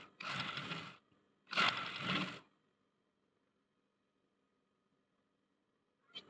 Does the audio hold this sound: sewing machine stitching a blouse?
yes